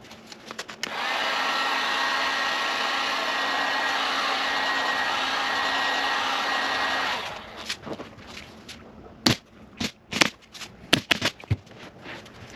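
A heat gun blows steadily on the corners of a vinyl boat seat cover for about six seconds, a loud even whoosh, then cuts off, followed by scattered sharp clicks and handling noises.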